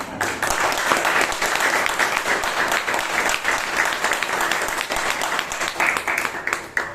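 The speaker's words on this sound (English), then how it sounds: "So let's hear it for our table topic master." An audience at a Toastmasters club meeting in Bangalore applauds the table topic master, with steady, dense clapping that holds at an even level for about seven seconds.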